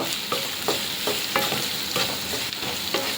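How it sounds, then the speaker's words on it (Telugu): Potatoes and onions with turmeric fry in a pan with a constant close sizzle, while a spoon scrapes and stirs in regular strokes about every half second. "మనకి బంగాళదుంపలు ఆనియన్స్ కొంచెం ఫ్రై అయ్యేంత వరకు వేపుకుందాం"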